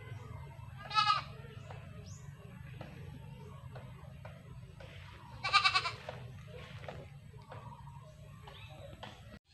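A goat bleats twice from inside its pen on a farm, with the two loud calls spaced several seconds apart. A low steady hum runs underneath, with faint shuffling in between.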